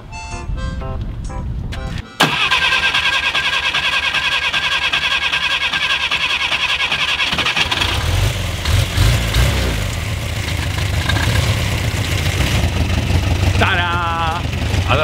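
An old Skoda car engine cranks and catches, then roars loudly and steadily with revving and some squealing, close by.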